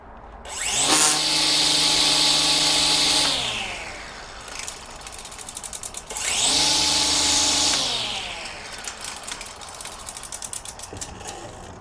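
A DeWalt 20V Max battery string trimmer fitted with an Echo Speed-Feed head spins up twice, each time whirring loudly for a few seconds at full speed before winding down, followed by light rattling clicks.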